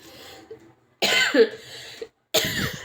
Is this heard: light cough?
yes